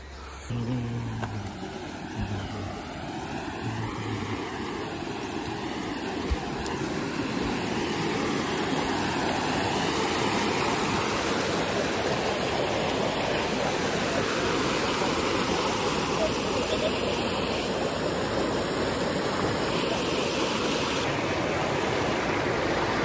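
A stream flows steadily in Mudumalai National Park, a dense, continuous rushing of water heard close and loud with no voices over it.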